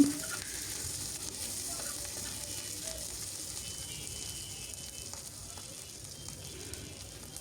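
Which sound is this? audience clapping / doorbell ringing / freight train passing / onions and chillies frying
onions and chillies frying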